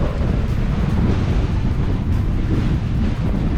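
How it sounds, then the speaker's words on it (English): Strong wind buffets the microphone during a road bike ride, a loud continuous low roar with no breaks and no voices. "Well, we got some wind."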